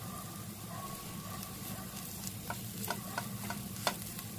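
Quarter teaspoon of chili powder roasting in hot oil in a pan while making poha upma gives a soft, steady sizzle with faint scraping stirs and a few light clicks of a spoon against the pan.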